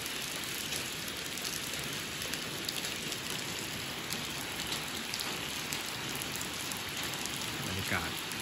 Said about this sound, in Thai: บรรยากาศล่าสุดฝนตกน้ำท่วมนะครับน้ำท่วมที่บ้าน